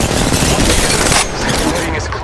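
Heavy gunfire in a battle royale video game, a dense loud barrage of overlapping shots that drops to a lower rumble partway through, with voices mixed in.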